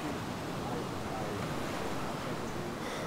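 Loud, steady roar of video game ocean surf at a dock washing continuously, with a broad rushing wash filling the whole clip and no clear breaks between waves.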